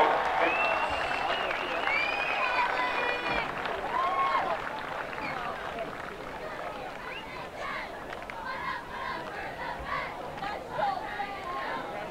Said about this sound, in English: Please, let's give them one more big round of applause.